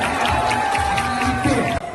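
Spectators cheer and clap at a baby crawling race in Rize, a lively crowd noise close by with talk mixed in over the top.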